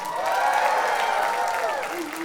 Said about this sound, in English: Let me get a big round of applause for AV.